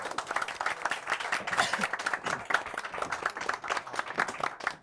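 Audience applause at a Korean book forum author talk, a moderately loud crowd of individual claps in an uneven patter throughout, with no voices over it.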